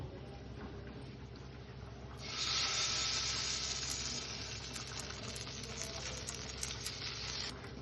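Food hits a little mustard oil in a pan and breaks into a sudden loud sizzle, holding as a steady close hiss for about five seconds before cutting off abruptly.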